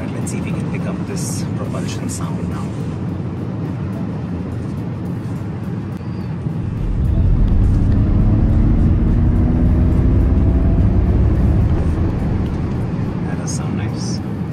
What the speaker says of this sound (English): the Mach-E has a simulated spaceship-like sound, and then that propulsion sound adds a virtual vroom